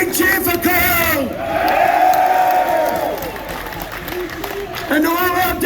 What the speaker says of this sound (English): Give another big cheer for Carl!